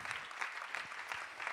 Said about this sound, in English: Let's give our staff, all of them, one more good hand clap.